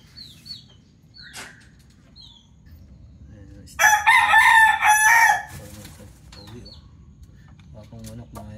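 A young rooster, a four-month-old bullstag, lets out a single loud crow lasting over a second, close and clear, amid quiet farmyard background with faint clucks before and after.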